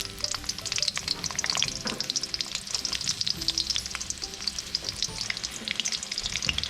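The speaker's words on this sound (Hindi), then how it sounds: "अब इसमें जाएंगे प्याज।" Onions frying in a hot pan for khara masala qeema, giving a steady, dense crackling sizzle that runs loud and close throughout without any talking.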